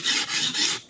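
Knife blade ground on a coarse whetstone, three smooth, gritty scraping strokes in quick succession, loud and close with no voice.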